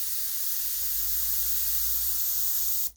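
Airbrush spraying paint onto a canvas while painting a rust texture, a steady fine hiss running close and even for nearly three seconds before cutting off abruptly.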